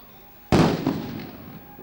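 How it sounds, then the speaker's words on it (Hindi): A single loud blast goes off as a diversion during a CISF commando parade demonstration, a sharp crack followed by a long rumbling decay with a smaller secondary pop, outdoors. "विंडो एंट्री की तैयारी से आतंकियों का ध्यान भटकाने के लिए जोरदार धमाके।"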